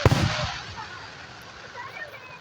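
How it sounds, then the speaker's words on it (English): A Fourth of July firework bursts loudly with a sharp bang at the start, then a long crackling, hissing decay fading away in the distance. "I like the fireworks"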